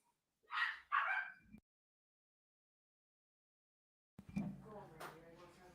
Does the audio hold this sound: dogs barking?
yes